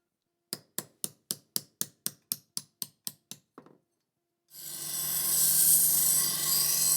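Small kogatana knife blade tapped with a hammer to straighten out twist: about eleven sharp, evenly spaced metallic strikes close by, fading to a soft final tap, then a loud continuous whooshing hiss of grinding or running machinery begins.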